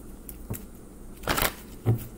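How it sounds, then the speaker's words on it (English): Tarot cards being shuffled by hand, a few soft riffling bursts and papery slaps spaced irregularly over about two seconds, close and fairly quiet with no talking. "we'll go ahead and shuffle a little bit more, just so you can feel more connected with your cards"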